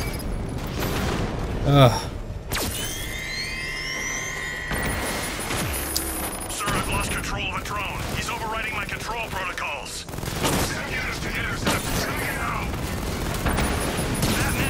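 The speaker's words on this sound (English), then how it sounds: "I forgot about the missiles." Missile explosions and gunfire in Batman: Arkham Knight: a dense, continuous barrage of booms, blasts and rapid shots with whooshing effects, loud throughout, with a brief grunt from a player.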